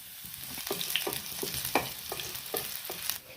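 Chopped shallots and dried red chillies frying in hot coconut oil for a Kerala prawn curry, a steady close sizzle with crackling pops and stirring scrapes throughout, no voices.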